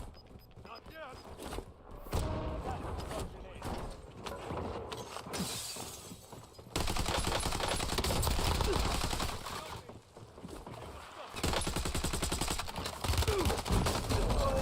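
Gunfire in the battle royale video game Warzone, scattered shots and mechanical clatter in uneven bursts with quieter gaps, while a voice talks over the action.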